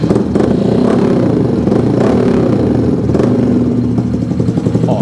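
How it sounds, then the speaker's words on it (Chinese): Honda CT125 motorcycle with a KSB flared exhaust pipe idling in an enclosed space, a close, loud, steady engine putter with slight rhythmic pulsing and no talk. "KSB 的喇叭口的排气管哦"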